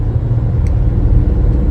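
A car in traffic approaching from behind, a steady low engine rumble and road noise that stays loud and continuous throughout.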